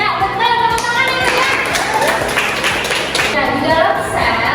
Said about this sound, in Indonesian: Ya, betul, tepuk tangan ya.